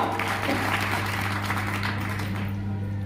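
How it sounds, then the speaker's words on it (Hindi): Loud audience applause at a seminar in Sirathu, Kaushambi, a dense steady clatter of many hands sustained throughout, with a low electrical hum underneath. "जोरदार ताली बजा दी"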